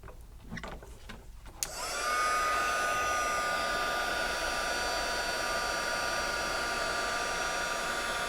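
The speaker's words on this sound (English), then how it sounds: "now I'm going to use my embossing tool" Embossing heat tool blasting steady hot air over embossing powder on a detailed bleached-background card design, switching on with a click after soft handling noises and then holding a loud, constant whooshing whine to the end.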